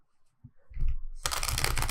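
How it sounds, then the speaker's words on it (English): Tarot cards shuffled quickly by hand at close range: a few soft rustles and taps, then a sustained dense riffling burst of card edges that runs to the end. "let's do a quick shuffle for Cancer"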